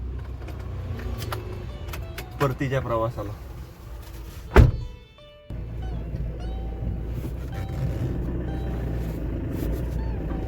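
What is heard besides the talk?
car being driven off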